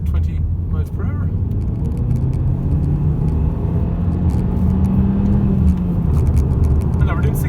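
A car pulls in second gear at about 20 miles per hour, its engine droning low and steady with a slowly rising pitch under road rumble, while someone talks over it.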